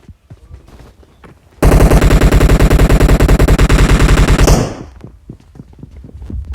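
A loud, rapid burst of automatic gunfire in PUBG Mobile lasts about three seconds close up, then fades, with quieter clicks and footsteps before and after.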